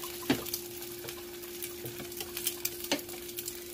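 Eggs frying in a pan as the last part of a wrap give a faint, steady sizzle, with a few soft pops and taps scattered through it and no talking.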